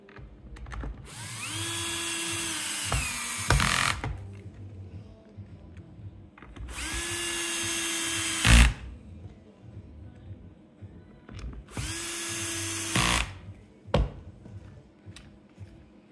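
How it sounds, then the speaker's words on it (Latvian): A power drill drives screws in three separate bursts, each a couple of seconds long, with a rising whine and ratcheting clicks, close and loud, followed by quiet handling noises between runs. "Sametīsim uz pāris skrūvēm un pamēģināsim, kas no tā visa sanācis."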